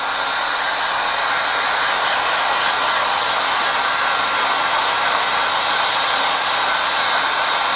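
Heat gun blowing on a poly bag to shrink-wrap a book, a loud steady airy roar that holds constant and unbroken throughout.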